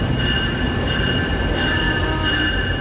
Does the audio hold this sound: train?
yes